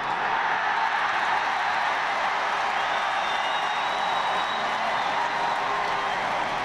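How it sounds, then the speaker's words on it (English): A packed Semple Stadium crowd roars as Waterford are declared Munster hurling champions after a replay against Cork: a dense, continuous wall of cheering and applause, loud and sustained, with no single voice standing out. "Listen to the cheer as Waterford are declared Munster hurling champions for the 9th time."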